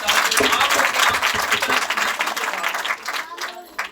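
A congregation at a church service bursts into dense, loud clapping that gradually thins out and fades by the end.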